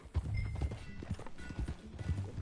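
Horse hooves clip-clop steadily as a horse is ridden in Red Dead Redemption 2, a moderate rhythmic trot heard up close alongside faint ambient sounds.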